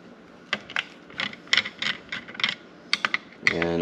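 Nuts being unscrewed from a battery cutoff switch, heard as close, crisp mechanical clicks and ratcheting ticks in irregular bursts, with a denser rattling run at the end and no talk.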